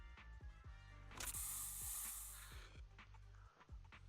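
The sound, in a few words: special Bangbu spray in Zenless Zone Zero video game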